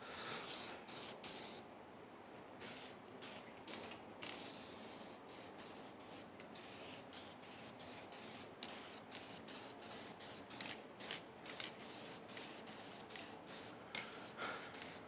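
Spray can applying thin coats of charcoal metallic coating to car exhaust headers, heard as steady hissing bursts broken by short gaps, close and continuous over a quiet background.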